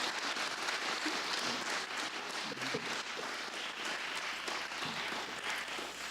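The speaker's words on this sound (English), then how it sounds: "How about a round of applause for all of our candidates tonight?" Sustained audience applause fills a candidate forum for county House and Senate seats, a dense, even wash of many hands clapping at steady loudness throughout, with no speech over it.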